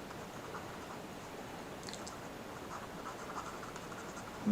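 Pen writing on paper while working a maths problem, a faint steady scratching that continues across the stretch with no talk over it.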